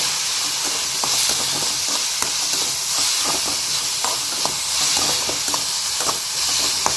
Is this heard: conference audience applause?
no